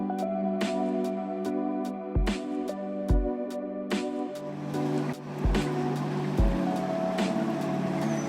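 Water of the Chao Phraya River in Bangkok at dusk, seen from the Wat Arun side, laps and washes steadily beneath a low, droning boat engine hum, with occasional sharp knocks.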